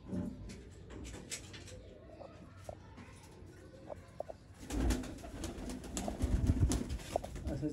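Sialkoti breed pigeons coo softly and intermittently amid background rustling and handling noise, with a louder burst of movement and low thumps in the later half.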